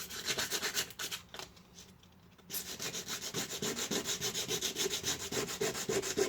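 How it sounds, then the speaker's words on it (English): Rough 80 grit sandpaper rubs back and forth over chipped paint on a window sill in steady, rhythmic close-up strokes, pausing briefly before resuming. "use a bit of 80 grit sandpaper just to smooth out that paint"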